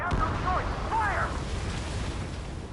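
Gunfire and explosions in the Ace Combat 7 jet combat game, a dense continuous rumble of blasts and bursts under radio-style voices and warning tones.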